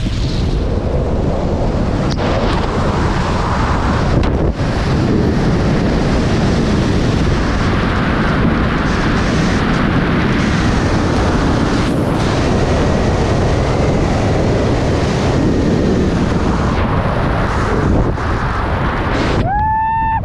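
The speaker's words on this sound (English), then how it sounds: "This is what it's like to work on top of a wind turbine." Strong wind roars on top of a wind turbine, a loud continuous buffeting rush with gusty swells throughout, close and overwhelming.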